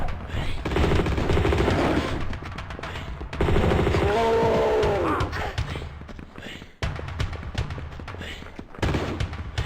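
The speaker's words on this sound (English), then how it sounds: "Who the fuck is shooting?" Rapid bursts of gunfire in Tomb Raider 2 Remastered, dense and loud with repeated shots, broken by brief pauses and a sudden cutoff near the end.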